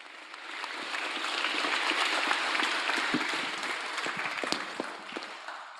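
Applause breaks out at a prize ceremony for a data visualization challenge, many hands clapping that swell and then thin into scattered individual claps toward the end.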